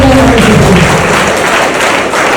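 Loud audience applause at a talk, a dense wash of clapping that holds steady for a couple of seconds, with a short trace of voice at the very start.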